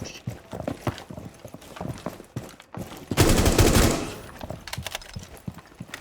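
Full-auto gunfire from a Rainbow Six Siege T-hunt match: a dense, loud burst of about a second stands out amid sparser game sounds and clicks before and after.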